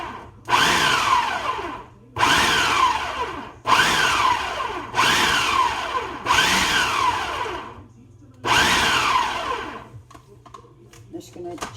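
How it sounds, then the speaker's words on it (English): A food processor pulses rolled oats and seeds for vegetarian patties, six loud whirring bursts of about a second each with short pauses between, followed by a few faint clicks. "And this, I'm just going to pulse a few times just to mix and break down a little bit."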